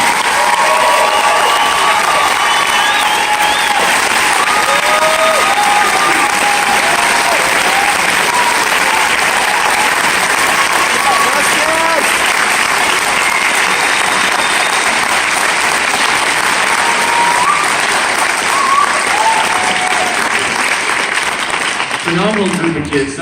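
Loud, sustained audience applause for graduating band seniors at a spring high school band concert, dense clapping running steadily throughout with some cheering mixed in.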